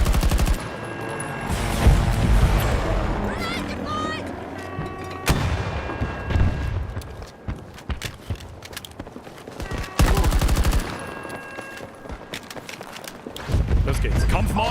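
Assault rifle fire in Battlefield 2042 rattles out in several loud, dense bursts separated by short pauses, with quieter shots and movement in between.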